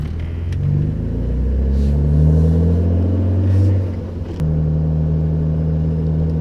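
Engine of a BMW E39 M5 wagon running and revving, a deep rumbling V8 tone rising and falling steadily, then dropping abruptly to a lower steady hum, loud and close with no talking.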